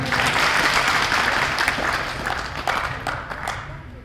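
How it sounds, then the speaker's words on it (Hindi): Brief burst of applause from staff gathered at a worksite safety motivation program, loud at first and then thinning and fading over a few seconds. "इनके लिए जोरदार तालियां।"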